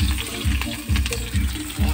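Onion, ginger and garlic fry in a pan at an outdoor New Year picnic, a steady sizzle broken by rhythmic scraping stirs about every half second.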